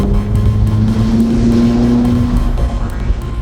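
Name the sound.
McLaren 570S engine while driving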